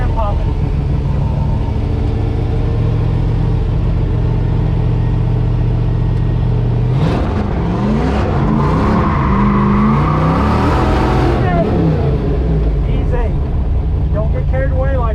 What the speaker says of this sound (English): You gotta give it more gas. Then pop it.